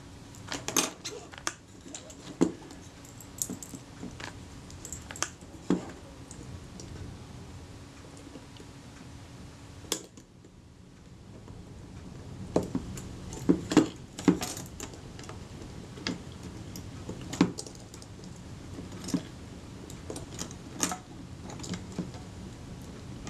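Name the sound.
dismantling a Kodak Retina I type 119 camera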